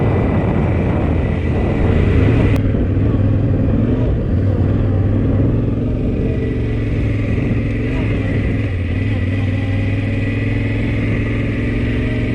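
A licensed road vehicle's engine drones steadily while driving a Colorado dirt trail, a constant mid-pitched hum with road and wind noise, loud and close throughout with no clear voices.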